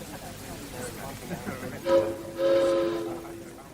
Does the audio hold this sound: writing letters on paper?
no